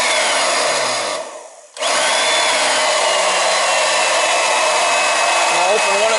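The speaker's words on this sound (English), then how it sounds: "It'll be a little noisy when I get the pump running" An electric pump drawing glycol from a bucket into a three-zone hydronic heating system runs with a loud, steady whine and hiss, dipping briefly before surging back to full noise.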